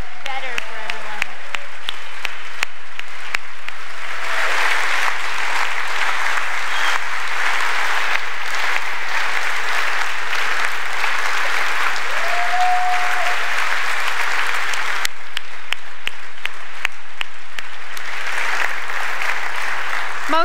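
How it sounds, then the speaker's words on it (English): Sustained audience applause at a WordCamp Europe 2016 closing session, honoring the real-time captioning partners, loud and steady for about twenty seconds with scattered cheers and a brief voice near the start. "let's give them a round of applause"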